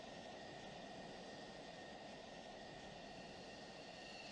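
F-16 jet engine in the Falcon BMS flight simulator game, a steady broadband roar with a high whine, constant and unbroken throughout, no voices.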